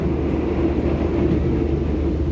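A Prameks local train at Patukan station near Yogyakarta produces a loud, steady low rumble that holds evenly throughout, with no voices.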